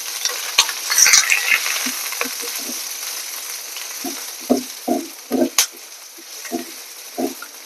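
Finely chopped onions sizzle in a pan for bitter gourd thokku, a soft steady frying hiss broken by scattered short scraping stirs of a spoon against the pan, close and moderately loud with no talk.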